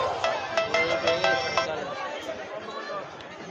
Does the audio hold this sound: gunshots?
no